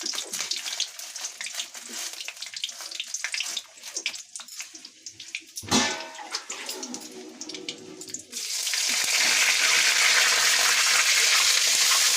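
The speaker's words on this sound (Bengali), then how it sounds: "আমার মা কড়াইতে তেল দিয়ে দিয়েছে মশলাটা কষিয়ে নেবে" Spices frying in oil in a kadai, heard after scattered clinks and stirring scrapes, with a loud, even sizzling hiss taking over and holding steady near the end.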